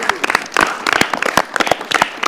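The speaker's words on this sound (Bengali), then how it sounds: "জোরে হাততালি।" Children and audience at a kids' prize-giving show clap loudly for a second-place winner, a close, busy patter of individual hand claps that holds steady throughout, with a little voice mixed in.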